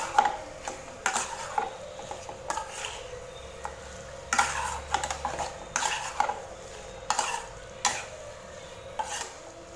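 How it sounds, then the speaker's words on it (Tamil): A spoon stirs chicken curry with masala powder in a pan, giving repeated scraping clinks against the metal in an irregular rhythm, close and fairly quiet over a faint background hum. "மசாலா தூளை சேர்த்துட்டு நல்லா சிக்கன் கறியோடு நல்லா மிக்ஸ் பண்ணி விட்டு"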